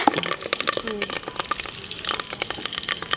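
Curry leaves and ginger paste, with a small onion, crackle and sizzle in hot oil for a village-style country chicken curry, a steady busy spattering with stirring clicks while someone talks over it.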